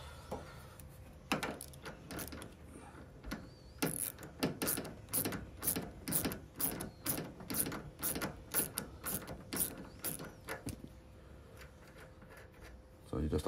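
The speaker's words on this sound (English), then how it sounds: "So the first thing you do is just undo the nuts." A ratchet spanner clicks in quick, uneven bursts as nuts come off the suspension of an Asko washing machine, close and crisp, with someone talking over parts of it.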